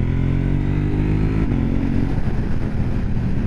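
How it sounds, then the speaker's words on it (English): A 2023 KTM 890 Adventure motorcycle on knobby tires accelerates with its quick shifter, its engine droning loud and close. Rising revs drop sharply at a crisp upshift around the midpoint, then climb again with no talk. "And the bike makes rapid progress on a road like this."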